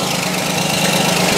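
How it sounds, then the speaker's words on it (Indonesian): A Toyota Agya 1.0 car engine idles after an oil change with an engine flush additive, giving a steady, close, continuous mechanical hum with a broad buzzy rattle and no talking. "Suara mesin jadi lebih halus, tenaga mesin juga akan lebih bertenaga."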